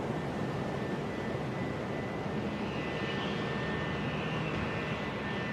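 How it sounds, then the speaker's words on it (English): Airplanes fly over a pipe-band competition venue at Florence, a steady broad rumbling roar that persists throughout with no talk. "It's like planes flying over."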